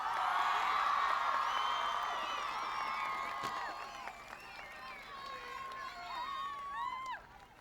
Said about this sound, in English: Please give yourselves a well-deserved round of applause